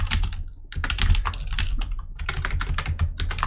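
Quick, irregular clatter of keys as a message is typed on a computer keyboard, close and clear, with short pauses between bursts and no speech.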